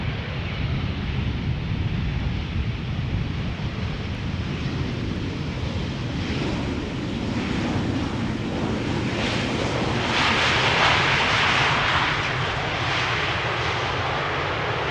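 A large airliner arrives at Schiphol Airport with a steady, broad jet roar that swells over several seconds. Wind buffets the microphone outdoors.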